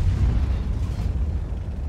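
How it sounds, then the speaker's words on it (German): In the World of Tanks video game, an FV tank destroyer fires its main gun, a heavy booming blast that rolls into a low rumbling tail. "Der Schuss vom FV."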